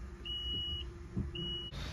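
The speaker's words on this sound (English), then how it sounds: "What's it beeping for?" An electric pickup truck sounds a warning beep, two high, clean tones repeating at a steady interval over a low hum inside the cab.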